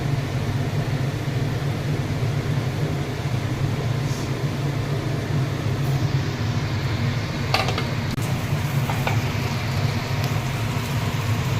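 Eggplant pieces fry with spices in a pan, giving a continuous dense sizzle that stays steady and fairly loud throughout, with a few faint clinks of a utensil against the pan.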